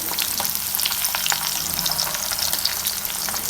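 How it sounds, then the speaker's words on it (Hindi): Fish pieces fry steadily in hot oil in a pan at medium flame for a fried fish biryani, a dense continuous crackling sizzle with bright spitting pops, close and alone without talk. "एक मिनट हो गया सब फ्राई होते हुए।"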